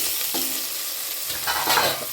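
Two medium tomatoes hit hot mutton kulambu in a pan, bringing a loud close sizzle and frying crackle with stirring scrapes that swell toward the end.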